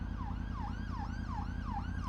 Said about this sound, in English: there's an ambulance coming towards me